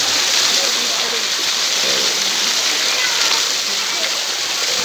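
Free-flowing mountain spring water pours from hoses into a resort pool in Pangasinan, a constant close, bright hiss and splash of running water, with a voice talking over it.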